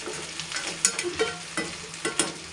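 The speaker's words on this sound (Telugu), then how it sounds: "నేనైతే ఇలా చేస్తాను చేమగడ్డలు ఫ్రై" Taro root (colocasia) pieces fry in a pan with a steady broadband sizzle, broken by several sharp scraping clicks of stirring, close and moderately loud with no voices.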